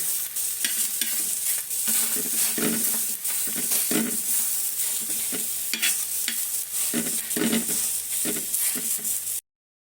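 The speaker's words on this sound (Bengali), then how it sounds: "আমার ব্রেডটা ভাজা হয়ে গেছে" Bread frying in a pan, a loud continuous sizzle and hiss with repeated scraping stirs, no talk, cutting off abruptly at the end.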